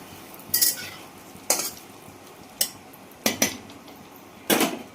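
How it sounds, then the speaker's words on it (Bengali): Asafoetida fries in a pan under a low sizzle, while a spoon stirs with five or six sharp metallic scrapes and knocks against the pan, close and separated by brief pauses. "এটা দিলাম একটুখানি হিং। এতে ভাজা ভাজা হয়ে যায়"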